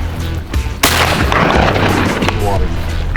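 Shotgun blasts ring out during an opening-weekend duck hunt over decoys on water in Colorado, a sharp loud report followed by a dense roar of overlapping shots and rumble, with excited voices shouting throughout.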